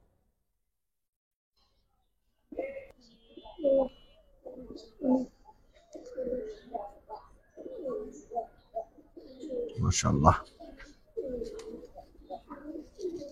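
Pigeons in a Bangladeshi loft of Giribaz, coloured and racer breeds coo in soft low murmurs close by, interspersed with someone talking, with a louder burst of wing flutter midway.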